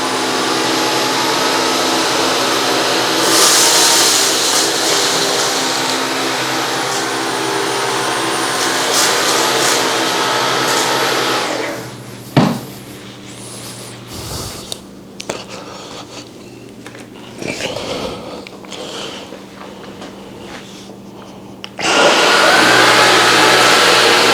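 Dyson V15 cordless vacuum cleaner running on hard floors, a loud steady whirring drone that holds for about twelve seconds, drops to quieter clicks and handling noises, then surges back to full power at the end.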